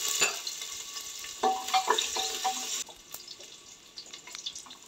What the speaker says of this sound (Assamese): পিঁয়াজখিনি অলপ ভাজিব অলপ ৰঙচুৱা কৰিব